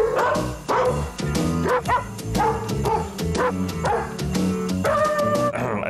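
Dogs bark and yip a Christmas tune, Jingle Bells, in a dense, rhythmic run of barks over a steady musical backing, loud and continuous throughout.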